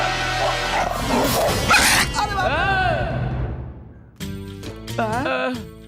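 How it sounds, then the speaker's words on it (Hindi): In a dubbed film scene, a dog gives a burst of high, wavering yelps and barks that rise and fall. Loud voices and other noise overlap the dog. "ये तो कुत्ता बाहर आ रहा है"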